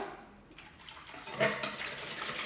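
Water is poured into a bowl of beaten eggs while baking rosette cookies, a faint, close trickle and splash starting after a brief quiet moment and continuing to the end.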